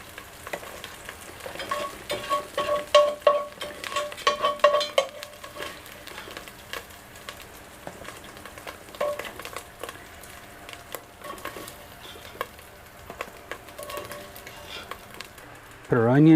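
Cooked chorizo and ground beef for Tex-Mex chili are stirred together in a hot pot, giving a steady close sizzle broken by scraping and light clinks of the utensil, with no talk.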